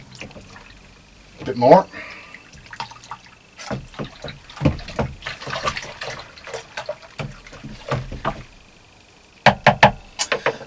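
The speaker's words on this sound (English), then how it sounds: "I'm going to give that a good stir." Water mixed with dishwashing liquid is stirred in a container, sloshing and splashing in uneven swirls close by, with a person talking over it now and then.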